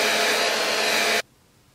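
Hair dryer blowing on a 5x5 HD lace closure wig: a loud, steady close-up whoosh that cuts off abruptly after just over a second, leaving a quiet room.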